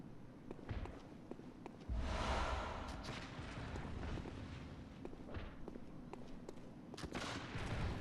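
Enemy gunfire in the video game Bloodborne crackles through a dense, rumbling game soundscape, with scattered sharp reports and a heavier boom partway through, all at a moderate, somewhat distant level.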